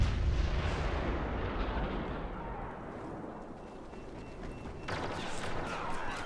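Grenade explosions and heavy gunfire in the Star Wars Battlefront video game, a dense, continuous roar of booming blasts that stays loud throughout, with a sharper burst near the end.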